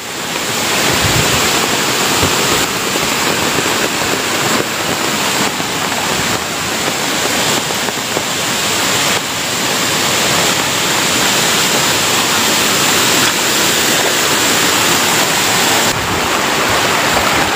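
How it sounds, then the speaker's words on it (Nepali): Rainwater rushes over the NH10 road during heavy continuous rain in North Bengal, a loud, unbroken roaring wash with gusty wind noise on the microphone and no voices. "र रोडमा पानी कुदेको हेर्नु सक्नुहुनेछ है"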